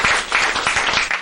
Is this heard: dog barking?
no